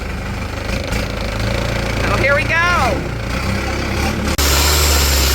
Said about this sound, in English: we are on the long boat to the floating market, and I'm by the engine and the gas tank